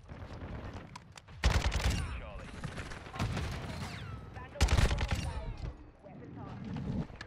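Rapid automatic gunfire in Call of Duty: Modern Warfare II, with dense crackling bursts that come in several loud volleys, close and punchy, layered under a player talking over the shooting.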